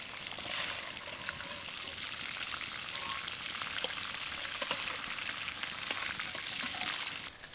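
Prawns fry in oil for biryani, a soft, steady hiss of bubbling oil with faint crackles throughout, fairly quiet and without voices.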